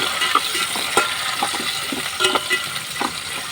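Tomatoes frying in a pan while being stirred, with a dense, continuous sizzle and intermittent spatula scrapes and taps throughout, close and fairly loud, with no one talking.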